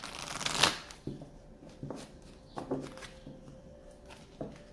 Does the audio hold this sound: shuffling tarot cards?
yes